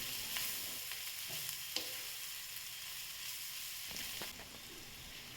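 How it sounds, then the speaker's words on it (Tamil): Continuous sizzle of bitter gourd and onion with turmeric frying in a pan, with intermittent spatula scrapes and light clicks as it is stirred, close by and even in level. "இப்போ இது கூட நம்ம மஞ்சத்தூள் சேர்த்து அப்படியே வதக்கி விட்டுக்கிட்டே இருக்கலாம்"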